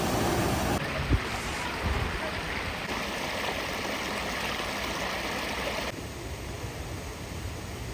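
Water flows steadily in a stream in a green spring countryside near a natural spring, making a continuous broadband rushing wash that stays close and even, with no talking.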